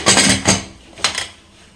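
Metal lid set onto a cooking pot for a Sunday biryani, a few close, loud clanks and rattles in quick succession, then a second short clatter as it settles.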